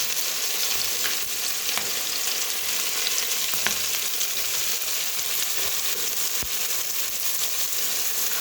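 Chopped onions frying lightly in a pan for a kachki fish chorchori, an even, dense hiss of sizzling oil with a few faint clicks of stirring, steady and close.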